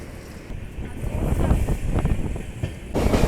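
A passenger train pulls out of Ramanagara station on the Bengaluru to Mysuru line, with a low rolling rumble and wind rush that grow louder as it departs.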